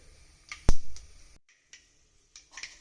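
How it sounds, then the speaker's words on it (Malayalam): Mustard seeds crackle and pop in hot coconut oil for an Irumban puli curry: a few sharp, close snaps, with one loud burst near the start and scattered lighter pops after a brief pause, with no talking. "കടുക് പൊട്ടട്ടെ കേട്ടോ."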